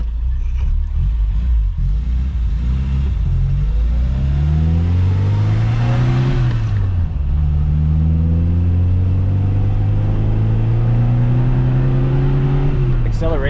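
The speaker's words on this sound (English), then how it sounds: "Acceleration is actually pretty impressive, really torquey all the way through the RPM range, and it pulls all the way to the red line" A 1970s BMW 2002 coupe with its M10 engine accelerates hard, the engine note climbing steadily, dipping at one gear change, then rising again. It is loud and close, as if recorded from inside the car.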